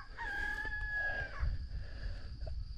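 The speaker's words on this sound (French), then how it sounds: "Il y a un coq en bas qui chante." Rooster crowing below a dam near Eugi: one clear, drawn-out cock-a-doodle-doo heard from a moderate distance, followed by quiet outdoor ambience with light rustling.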